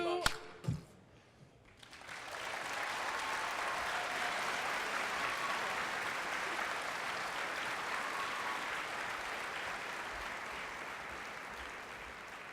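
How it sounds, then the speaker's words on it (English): An audience at an accepted students' welcome day applauds the C-Sharps singing group, a steady wash of many hands clapping that swells after a brief quiet start and holds loud and even to the end. "One more hand for C-Sharps."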